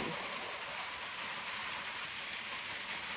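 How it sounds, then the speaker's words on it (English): Rain falling steadily on a roof at a small farm, a continuous dense hiss with even loudness throughout and no talk. "You can hear the rain on the roof."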